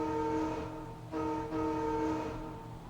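A train pulls away in the video game Virgo Versus the Zodiac, with sustained harmonic horn-like tones over a rumbling rolling drone. The sound is loud and close, with a short dip near the middle before it continues steadily.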